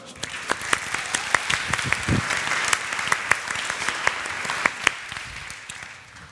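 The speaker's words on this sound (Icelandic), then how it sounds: "Gefum honum gott klapp" Congregation applauding during a church service, a steady wash of many hands with sharp individual claps standing out near the front, continuing without a break for several seconds.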